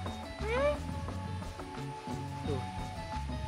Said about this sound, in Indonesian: Itu bukan kucing hutan, kucing lembur.